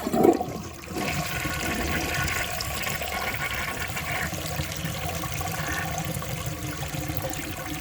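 A 1965 Southern Porcelain toilet flushes, starting with a brief sharp release and then settling into a steady, loud rush of swirling water that continues to the end.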